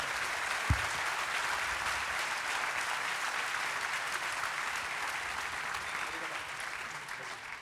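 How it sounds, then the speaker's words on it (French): An audience at a conference closing session claps continuously, a broad steady applause that fills the room for several seconds, with one sharp knock near the start. "Vous pouvez les applaudir"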